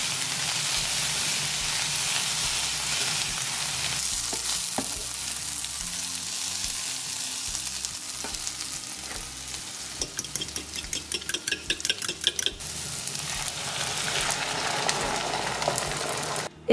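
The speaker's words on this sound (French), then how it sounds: "je vais couper un gros oignon et un autre plus petit pour les mettre dans la poêle et les faire revenir avec de l'huile d'olive" Onions fry in olive oil in a skillet, making a loud, continuous close sizzle and hiss that lasts the whole stretch. Quick rhythmic stirring and scraping clicks come through midway, and no one speaks.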